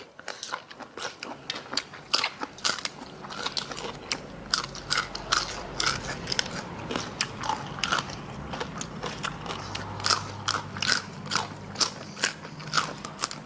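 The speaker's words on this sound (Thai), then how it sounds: "ชอบเสียงปุบปุบของปลาหมึก" Close, crisp crunching and chewing of squid tentacles, glass noodles and crisp morning glory repeats in an irregular rhythm of wet bites and snaps, continuous and fairly loud, with no talking.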